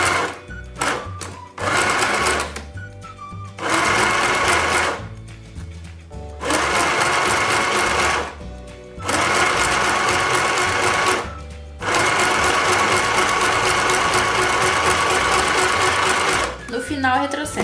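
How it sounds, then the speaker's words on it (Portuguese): A simple household sewing machine stitches a straight seam over a zigzag-finished hem, starting with a backstitch; loud, close whirring runs in several sustained bursts separated by short pauses. "E agora eu vou fazer a minha costura reta por cima do zigue-zague."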